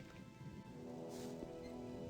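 Rain falls steadily in the Gothic 2 video game world, a faint, even hiss under a quiet musical drone with no voices.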